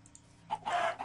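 A video game chicken clucks in short, close bursts, a few quick clucks followed by a longer fowl call, clear against a quiet background.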